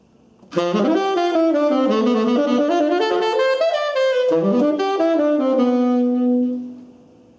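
A jazz lick over a 2-5-1 progression in D using diatonic approach notes: a quick run of clear melodic notes that settles onto one long sustained tone, with no talking.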